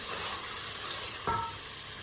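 Chicken frying in a pan gives a soft, even sizzle, with one brief scrape of a spoon stirring it partway through.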